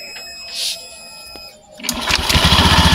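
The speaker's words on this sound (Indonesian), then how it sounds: "jadi motornya ini udah hidup, mantap. Dan ini suaranya sangat halus" Automatic motor scooter engine starting after a crankshaft seal replacement, then settling into a smooth, steady idle with a close, even putter.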